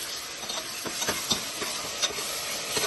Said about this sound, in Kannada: ಸ್ವಲ್ಪ ಈರುಳ್ಳಿ ಎಲ್ಲ ಫ್ರೈ ಆಗೋ ತನಕ ಬಿಡಬೇಕು